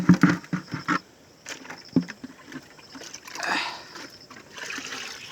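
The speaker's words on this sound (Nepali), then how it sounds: "आधा पानी छोडिहाल्यो।" Water is poured and splashes into a container in a few uneven bursts, with trickling and sloshing, fairly close.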